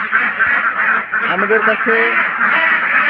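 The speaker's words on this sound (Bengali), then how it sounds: "দেখেন কত সুন্দর হাঁস" Khaki Campbell ducks quack in short bursts close by while someone talks over them.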